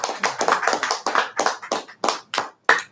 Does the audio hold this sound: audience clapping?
yes